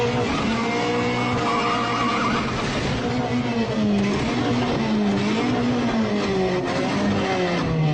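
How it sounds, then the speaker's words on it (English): A car launching off a two-step with a clutch dump, the engine wailing and rising in pitch through a long, loud run with tire noise underneath, heard close without any talking. "First, you brake the floor like this, and dump the clutch"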